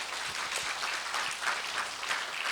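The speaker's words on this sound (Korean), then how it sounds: "박수로 부탁드립니다." Steady applause from an audience at an academic lecture, a dense wash of clapping hands at moderate level throughout, with no voices over it.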